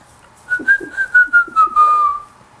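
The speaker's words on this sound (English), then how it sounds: "He whistled while he worked." A person whistles a short, bright tune up close, a few quick chirping notes followed by a long sustained tone that slowly glides downward, clear and alone.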